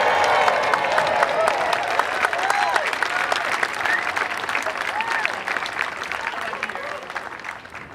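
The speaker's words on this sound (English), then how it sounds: "Can we get one more big round of applause for the mayor for coming out tonight?" An evening crowd applauds Berkeley Mayor Arreguín at a public event: dense, sustained clapping with a few cheers and voices, easing slightly in volume toward the end.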